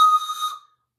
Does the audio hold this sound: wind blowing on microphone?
no